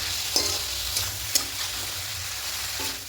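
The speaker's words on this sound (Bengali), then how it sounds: "ভালো করে কষিয়ে নিয়েছি" Spices stir-fried with catla fish head and soybean chunks in a pan: a steady close sizzle with a few sharp scrapes of the spatula, no voices.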